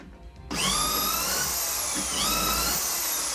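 Power drill boring holes through a jig into plywood, starting abruptly after a brief quiet moment and then running as a loud, steady high-pitched whine with a slight dip in pitch partway through.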